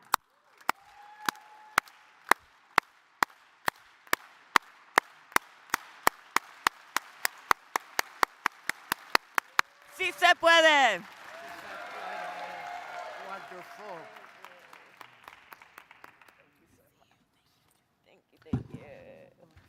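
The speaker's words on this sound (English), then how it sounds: "maybe we can end with a good, farm worker hand clap" An audience at a labor council gathering performs a farm worker hand clap, slow single claps that speed into a rapid roll, then burst into cheering and applause with a shouted chant before fading.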